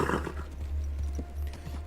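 Horse hooves clip-clop in a video game, a steady run of soft, close hoofbeats over a low rumble, with a brief whinny-like sound at the start and no one talking.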